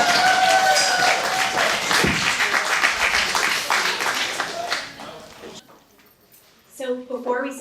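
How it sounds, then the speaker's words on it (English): Audience at a Nerd Nite talk bursts into loud, dense applause that gradually thins out and fades, followed by a speaker starting to talk. "Everybody give a round of applause for that"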